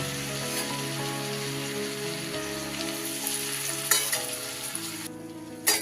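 Whole spices (small cardamom, cloves, cinnamon and a bay leaf) sizzle in melting butter in a pan, a constant close frying hiss with a few stirring clicks near the end over faint steady background tones.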